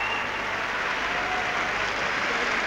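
Steady, dense applause from a large arena crowd at the 1998 Nagano Olympics men's free skate figure skating event, continuous and fairly loud throughout.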